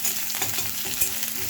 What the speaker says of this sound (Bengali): পেঁয়াজটা একটু ভাজা ভাজা করে নিই।